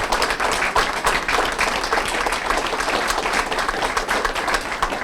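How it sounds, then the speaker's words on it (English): A dense, even round of applause fills a small-town city hall chat event: many hands clapping together at a steady, fairly loud level for several seconds with no voices over it. "let's give them a round of applause"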